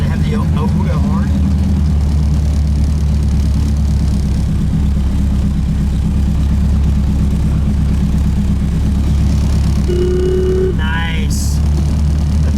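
A custom 1929 Ford Model A honks its horn once, a short rising-then-falling blare near the end, over the car's steady low engine rumble, with voices talking nearby.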